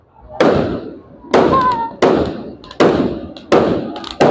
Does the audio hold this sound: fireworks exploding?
yes